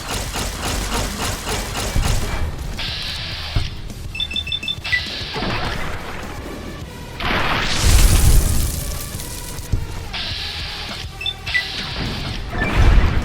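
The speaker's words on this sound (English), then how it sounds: "The Tungers are throwing grenades. Who the hell's throwing grenades?" Grenades thrown by enemies explode in the video game Fallout: New Vegas: a few loud, crashing blasts rise out of busy gunfire and game noise, with no talk.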